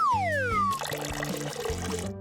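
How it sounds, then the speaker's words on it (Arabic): Water poured to mix powdered baby milk, a fairly faint liquid splashing and trickling for about a second and a half, set against a steady musical tone with a falling swoop just before it and no voices. "جبتلك معايا لبن بودرة. هخلطه بس مع شوية مية."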